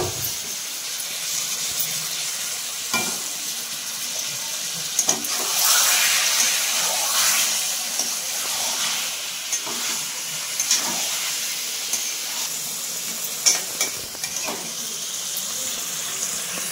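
Chicken leg pieces fry in a hot pan and get stirred, giving a steady close hiss and sizzle broken by occasional soft scrapes and clicks, with no talking.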